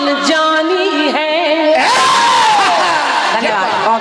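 Crowd at a jawabi kirtan stage performance breaks into loud cheering and whooping, building after a sung phrase and sustained across the rest of the moment, with singing voices audible at the start.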